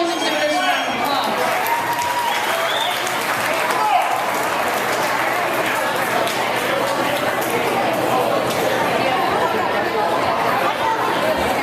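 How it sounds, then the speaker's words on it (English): Crowd at a 4-H market hog show claps steadily for the exhibitors after a class, a dense continuous patter with chatter and voices mixed in throughout. "let's give all these exhibitors a round of applause"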